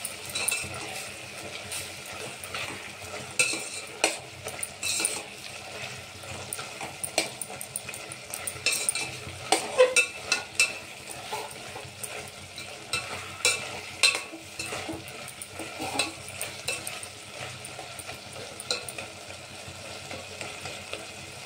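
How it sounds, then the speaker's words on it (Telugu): Brinjal chutney seasoned with chili powder cooks on a low flame, giving a soft, steady sizzle with occasional faint stirring clinks and scrapes throughout. "కారం వేసుకొని లో ఫ్లేమ్లో ఉడికించుకోవాలి"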